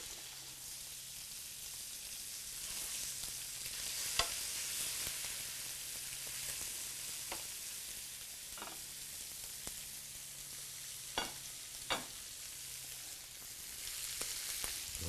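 Calf's liver fries in a pan with a soft, steady sizzling hiss, dotted with scattered sharp pops and crackles, heard close but fairly quiet and without talk.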